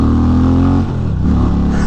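Indian Pursuit Dark Horse motorcycle in sport mode pulling strongly, a loud, steady engine drone heard close from the rider's position with a brief dip before it resumes.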